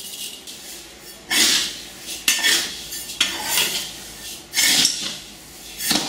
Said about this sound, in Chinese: 炒这个糯米要小火慢慢的炒，而且要不停的这样翻搅